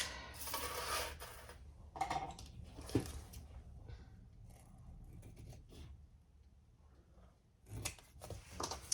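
Scissors trimming fabric for a Makayla bag make several quiet, close snips and crisp cuts, separated by soft handling rustles in a hushed room with no talk.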